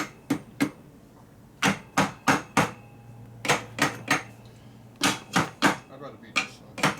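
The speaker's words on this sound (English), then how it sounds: "That would be a bigger hammer." A big hammer striking a 240V 7-1/2 hp Dayton air compressor motor during a shop repair: sharp, loud metallic blows in quick groups of two to four, with short pauses between bursts.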